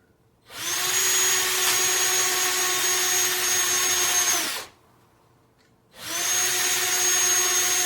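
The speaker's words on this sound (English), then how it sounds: "Just grabbing the hand drill." A hand drill whirs loudly in two long bursts with a short pause between them, enlarging small screw holes for a bicycle fender, a steady high-pitched motor whine close up.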